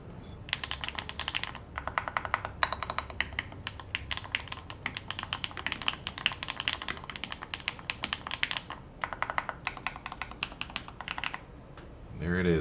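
Fast, steady typing on a custom-built computer keyboard, dense clicky keystrokes running nearly continuously and close up, with brief pauses and a faint voice under the clatter.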